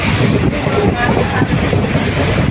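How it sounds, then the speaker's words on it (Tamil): Palakkad Express running fast near Erode, heard from inside the coach as a loud, steady rumble of wheels on rail with faint clickety-clack beats, no talking. "இன்றைக்கி தான் இந்த பாலக்காடு எக்ஸ்பிரஸ் இவ்வளோ ஸ்பீடாக போகுது"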